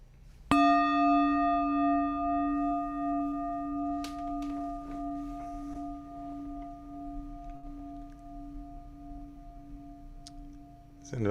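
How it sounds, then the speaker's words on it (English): A single struck meditation bell rings out clearly and then sustains a long, slowly fading resonant hum with steady overtones, heard alone in a quiet room with a faint soft tap midway. "as you await the bell"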